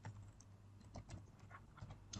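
Quiet, rapid typing on a computer keyboard while entering data into a Microsoft Access database, light key clicks close by under a faint steady hum, with no speech.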